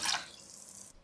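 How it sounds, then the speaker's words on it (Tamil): Water drains and trickles from washed rice and urad dal in the kitchen, a brief soft splash followed by a faint steady hiss of running liquid. "இதெல்லாம் இப்போ நல்லா தண்ணி ஊற்றி ஒரு 2 வாட்டி கழுவி வடித்து எடுத்து வச்சுக்கலாம்."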